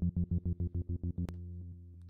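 A deep, buzzy psytrance synth growl chopped into rapid rhythmic pulses by a 1/3 beat gate, then a sharp click and the same growl sustained steadily without the gating.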